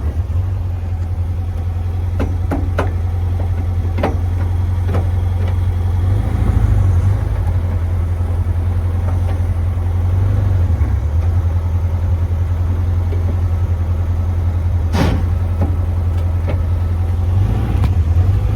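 A Volkswagen Beetle engine runs at a steady low rumble, idling and ticking over with a few faint clicks and knocks along the way.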